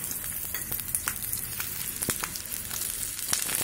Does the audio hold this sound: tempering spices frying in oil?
yes